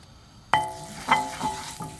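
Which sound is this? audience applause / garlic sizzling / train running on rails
garlic sizzling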